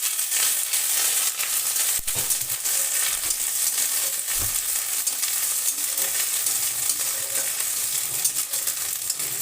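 Ginger paste fries in oil with dried red chilli and bay leaf for an ash gourd and prawn dish, a loud continuous sizzle close up, with occasional spatula knocks as it is stirred and no one speaking.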